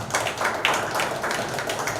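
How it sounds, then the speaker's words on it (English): An audience at the launch of an MMA gym in Bandra gives a short round of applause, a dense, even patter of many hands clapping close by. "a round of applause for them again"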